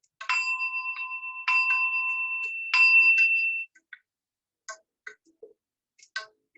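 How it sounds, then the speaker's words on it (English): A small meditation gong is struck three times in succession, each stroke ringing clear and sustained before fading, followed by a few faint taps and clicks in a quiet room. "So I have my little gong here."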